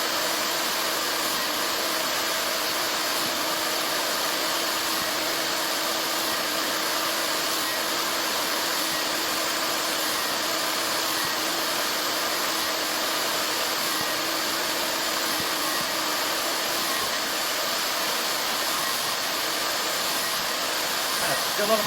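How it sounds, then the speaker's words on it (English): A small carpet extractor pulling water through its wand, similar in sound to a shop vac, drones steadily and loudly from start to finish on red-wine-stained carpet, with no break in the whine and no voices over it. "This is my small extractor, so it's nothing too crazy. It's gonna simulate like a shop vac."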